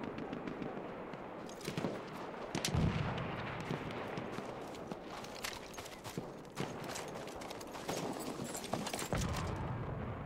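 Battlefield 1 battle scene with artillery fire, heavy booming blasts and scattered gunshots over a rumbling, busy combat din, some sharp impacts standing out nearby.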